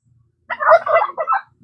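A turkey lets out a short, rapid gobble, a burst of warbling throaty notes lasting about a second, close by against an otherwise quiet background.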